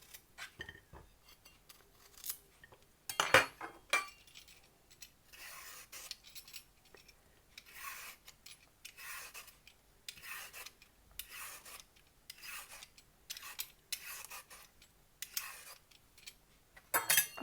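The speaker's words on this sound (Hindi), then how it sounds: "सबसे पहले हम कद्दू को छीलकर इसको कद्दूकश कर लेंगे।" A bottle gourd (lauki) is peeled and grated, giving quiet, repeated rasping strokes in a steady rhythm of roughly one or two per second, with short pauses between strokes and no speech.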